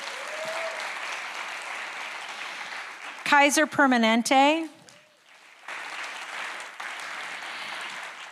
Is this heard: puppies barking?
no